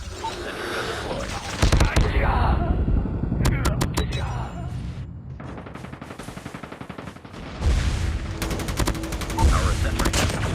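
Sentry gun in Call of Duty Mobile fires in rapid automatic bursts, with the sharp rattling volleys starting and stopping several times over a busy, loud game battlefield.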